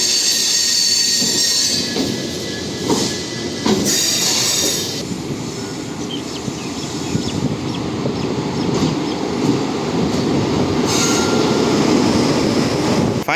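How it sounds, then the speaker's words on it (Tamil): Mysuru–Sengottai special express train pulling into platform 2 at Tiruchirappalli Junction, a steady loud rumble of rolling railcars with metallic wheel squeal and rattling throughout, continuous and close. "ஃபைனலி திருச்சிராப்பள்ளி ஜங்ஷனுடைய பிளாட்ஃபார்ம் நம்பர் 2ல் நம்மளுடைய Mysore to Sengottai special train arrive ஆகிருக்குது"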